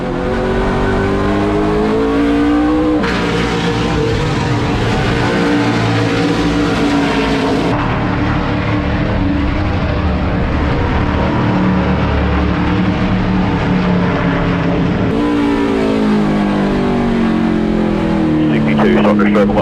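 Vintage NASCAR Monte Carlo race cars roar together on track, the loud, continuous engine drone shifting pitch through gear changes and passing cars, with a voice talking over the noise throughout.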